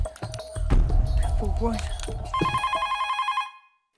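A telephone bell rings in a home, its rapid metallic trill rising clearly near the end after a stretch of clattering and voices talking.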